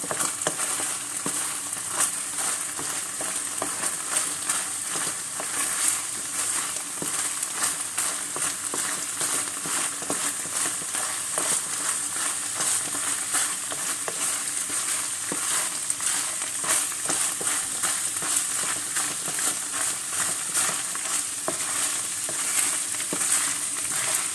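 Meat for Mersin tantuni sizzles and fries in oil in a pan, a dense, loud, steady crackle that runs unbroken throughout.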